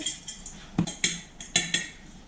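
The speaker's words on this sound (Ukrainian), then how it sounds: "перемішую яйця з сіллю." Eggs and salt being mixed in a deep bowl, probably with a fork, give about eight short clinks and taps in an uneven rhythm, close and fairly quiet, with no talking.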